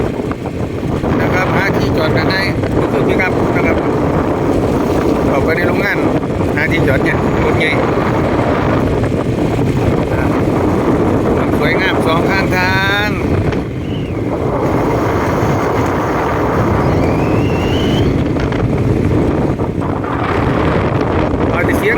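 Wind roars steadily and loudly across the microphone while riding a motorcycle, a continuous buffeting rush that barely lets up, with a voice faintly present beneath it.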